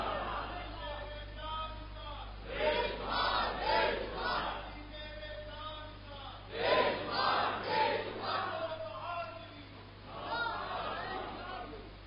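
Large crowd at a religious rally chanting slogans in rhythmic bursts, swelling and fading in several waves over a steady hum, with a voice leading between chants.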